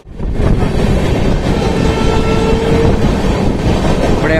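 Visakha Express running past the Moula Ali bypass, a steady loud rush of carriages and track noise heard from close by, mixed with wind buffeting the microphone.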